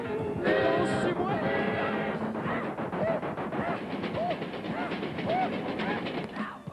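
A train arriving, its continuous loud rumble and rhythmic clatter of wheels filling the whole stretch, mixed with music and voices from a 1974 Canadian television broadcast.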